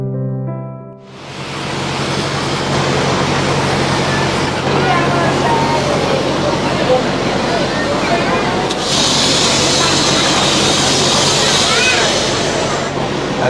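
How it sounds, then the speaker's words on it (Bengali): Inside a Biman Bangladesh airport passenger shuttle bus, called a Cobus, a loud, steady engine and road rumble runs without a break, with a hiss of air rising toward the end and faint voices in the background. "বিমান থেকে নেমে আমরা সবাই উঠে গেলাম বিমান বাংলাদেশের এয়ারপোর্টের ভেতর যাত্রী পরিবহন বাসে"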